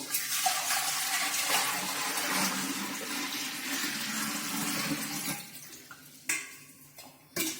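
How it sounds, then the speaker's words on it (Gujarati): Water pours steadily into a clay pot, a loud, close, continuous rushing stream that thins out near the end, followed by two short splashes. "હવે તેની અંદર આપણે પાણી રેડીશું"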